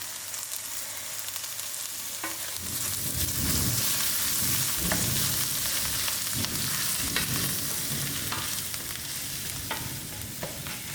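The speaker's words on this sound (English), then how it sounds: "I'm going to allow these onions to fry up a little" Onions and curry leaves frying in a pan for a Mauritian curry, giving a steady loud sizzle with occasional stirring scrapes and pops throughout, with no talking.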